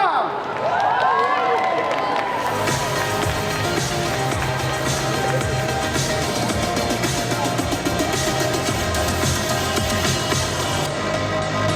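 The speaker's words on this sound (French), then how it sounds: "Et je vous demande d'applaudir bien fort le personnage de Lucas." A convention audience at a solo cosplay contest claps and cheers for a contestant, with sustained applause from a large crowd under an announcer's amplified voice and game character dialogue.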